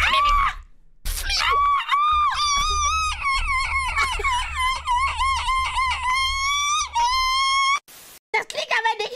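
A voice imitates seagull calls with a string of high, squealing cries, loud and close, broken by brief pauses and a sharp noise near the end.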